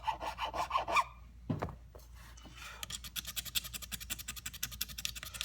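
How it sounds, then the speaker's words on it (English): Sandpaper rubbed on brass frets between guitar frets on a Stew Mac Mini T kit, with a short scrape, a thump, then a fast steady back-and-forth rasping that continues close and moderately loud. "get in between these frets down here and sand out any bigger marks in the brass."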